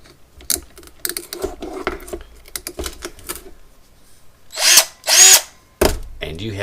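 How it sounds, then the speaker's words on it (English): A power drill serves as an improvised hand mixer for lemon cake batter, giving loud, short whirring bursts after a stretch of lighter clattering handling noise. "and you have a hand mixer."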